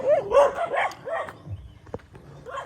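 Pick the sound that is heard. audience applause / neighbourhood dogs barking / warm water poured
neighbourhood dogs barking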